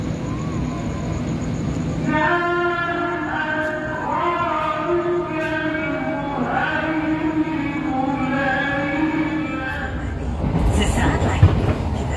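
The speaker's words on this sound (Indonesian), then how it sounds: "kereta api Mutiara Timur yang saya naiki tiba di stasiun Jember" Mutiara Timur passenger train, an economy-class service from Surabaya to Banyuwangi, rumbles steadily from inside a carriage near Jember station while a voice talks over the ride noise.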